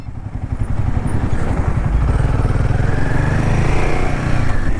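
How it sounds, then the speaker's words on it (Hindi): A motorbike rides downhill along the curving mountain roads of Baralacha La in Ladakh, its engine a steady, close, continuous drone with wind rush and no talk. "बहुत मज़ा आया नीचे उतरते बाइक चलाने में।"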